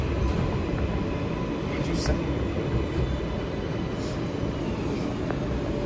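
An NYC subway R143 Z train at Fulton Street station gives a steady rumbling rail roar throughout, with faint brief squeals over it, while people talk nearby.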